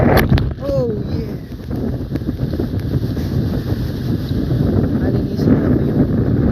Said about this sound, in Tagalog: Ang lakas pa rin ng hangin.